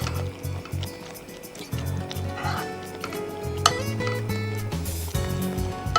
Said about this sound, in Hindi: तो ये चिकन के पीसेस इसमें डाल देते हैं।